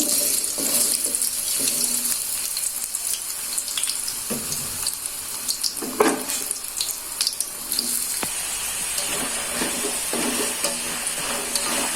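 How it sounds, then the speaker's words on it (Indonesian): Potatoes fry in hot oil with a steady, dense sizzle and crackle close by, punctuated by occasional stirring scrapes and clinks, with no talking. "untuk kentangnya ini saya goreng dulu"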